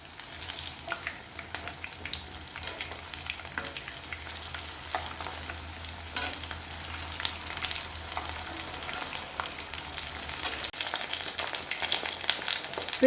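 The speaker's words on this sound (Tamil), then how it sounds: "ஒரு மிதமான சூட்லேயே நல்லா ஃப்ரை ஆகி வரட்டும்." Pieces of raw baby jackfruit fry in hot oil over medium heat, giving a steady, close sizzle and crackle that goes on throughout without any talk.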